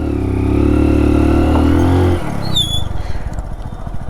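A motorcycle revs hard in second gear while climbing uphill, its loud, close engine note holding steady for about two seconds before abruptly dropping to a rough, uneven chugging.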